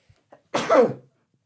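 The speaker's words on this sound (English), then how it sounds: "Just got done sneezing." Someone sneezes once, close by, after a couple of faint breaths, a short forceful burst in an otherwise quiet moment.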